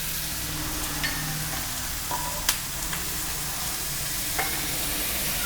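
Sliced onion fries in a pan with curry leaves and is stirred, giving a steady close sizzle with a few sharp scrapes and clinks of the spoon against the pan.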